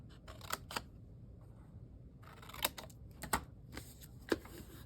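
Scissors snip through a craft box bottom during a sewing box project, giving quiet, close crisp cuts in short clusters separated by near-silent pauses.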